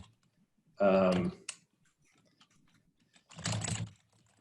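Typing on a computer keyboard comes as a short, close burst of clatter, preceded by a brief voice.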